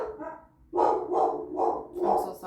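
Several dogs bark at home in a quick series of loud, close, overlapping barks after a brief quieter bark, with no talking.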